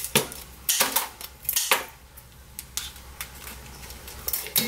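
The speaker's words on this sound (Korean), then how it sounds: "잘라줍니다. 그리고는 이렇게 가운데 한번 자르고요." Raw blue crab cut into pieces with kitchen scissors while preparing crab soup, a series of crisp, close snips and cracks spaced irregularly over a quiet background.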